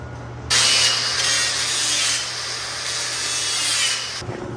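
A grinder smooths and blends a weld on a bent metal roof piece, producing a loud, continuous abrasive whine and rasp close by, with a steady motor hum underneath.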